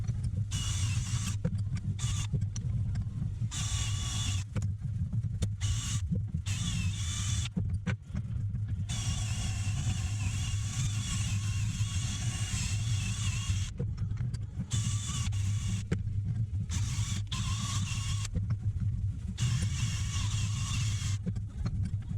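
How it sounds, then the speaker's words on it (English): A motor-driven wire wheel cleans an aluminium part in a Classic Mini workshop. A steady, close motor hum runs throughout, with repeated harsh scratchy bursts as the bristles bite into the soft metal. No one speaks. "so aluminium's quite soft, so you do have to be careful using a wire wheel like that"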